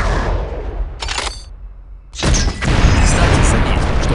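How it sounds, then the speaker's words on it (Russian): Grenade launcher fire and fragmentation grenade explosions in the shooter game Unreal 2: The Awakening, with two loud bursts of blasts and rumbling booms standing close and alone, separated by a brief lull. "Дай парочку залпов, чтобы вынести к чертям этих малышей."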